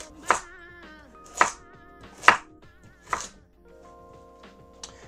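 A knife chops carrots into big chunks on a board, four sharp, evenly spaced thuds and a faint fifth tap, close, with a soft musical backing underneath.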